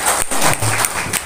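A group claps hands in brief, dense applause at a trainers' gathering, continuous and fairly loud through the short moment.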